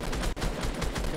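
Rapid automatic gunfire in Fortnite, sprayed into a tree where an enemy may hide, a short dense burst of close, loud shots with a brief gap in the middle.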